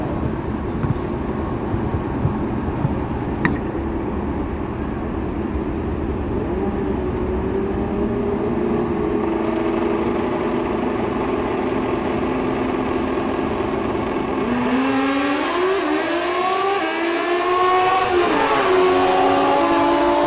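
A Kawasaki ZX10-based drag bike at a drag strip finals event drones steadily as an engine roar, then near the end the pitch climbs through several quick upshifts that sound loud and close, with no talking.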